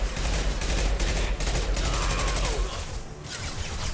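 Rapid gunfire from a weapon in the video game Mass Effect 2, loud and continuous bursts of shots that ease off briefly near the end.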